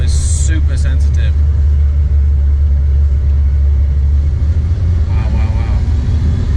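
McLaren F1 engine running under a touchy throttle, a deep steady rumble with brief rising revs, near and loud, with voices talking over it throughout.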